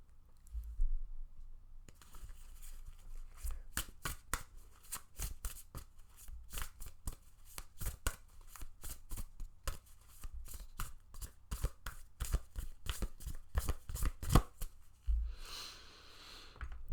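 Tarot cards being shuffled up close, a long run of crisp riffling snaps and flutters in quick irregular bursts, with a brief pause before they start and a softer rustle at the end, no voices.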